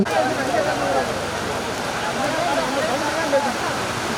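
Heavy rain pours down steadily at an outdoor vadamadu manjuvirattu bull event in Kuruppuli, forming a dense, constant hiss while a voice talks over it.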